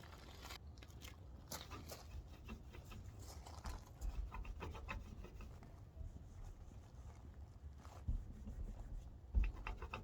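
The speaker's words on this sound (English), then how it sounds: "Now's a good time to give this all a clean if you can." Parts on a VW T25 van being cleaned and rubbed down, giving quiet, steady scrubbing and scraping with occasional crackles and sharper knocks, close by and without speech.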